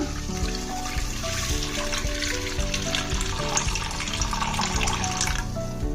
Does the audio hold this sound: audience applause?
no